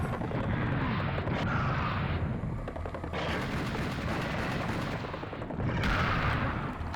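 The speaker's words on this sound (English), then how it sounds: "this is obviously where rockets come out" Heavy weapon fire in Serious Sam: The First Encounter, with loud repeated blasts and booms rolling in dense bursts with brief lulls between volleys.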